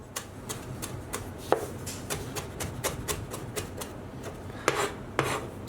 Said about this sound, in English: Next we'll just bring a couple of sprigs of fresh coriander. And we just want to chop that up.